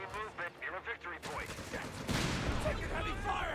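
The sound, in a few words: gunfire in Company of Heroes 3 video game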